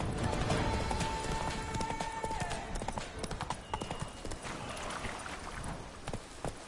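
Horse hooves clip-clop at a steady trot in the Witcher 3 video game, a quick run of crisp, moderately loud hoofbeats continuing throughout over a soft background.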